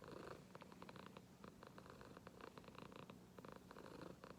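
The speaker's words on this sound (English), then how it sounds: "she's purring up a storm" A pet cat named Jewel purring hard while almost asleep, a continuous rhythmic rumbling purr in close-up, soft in level, with no voices over it.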